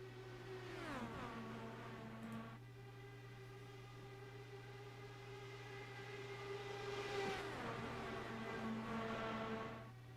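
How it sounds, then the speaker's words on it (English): IndyCar race cars accelerating at the start of an iRacing video game race at Auto Club Speedway, engine tones rising and shifting through gears, with a second car's climbing whine arriving later over a steady engine drone. "Thomas Geisler on the pole, and he accelerates now, and we are underway for season 4 of the VOR IndyCar Euro Series"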